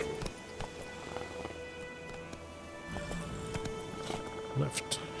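Hoofbeats of Geralt's horse Roach in The Witcher 3, a steady clip-clop close by, with a brief whinny-like sound near the end, over low game ambience and voices.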